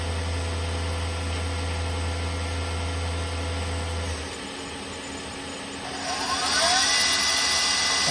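A 2013 Tsugami B0206-II Swiss-type CNC lathe runs its sub spindle at 6,000 rpm, giving a steady whine with a low drone. The drone drops away midway, then a higher whirring tone rises near the end.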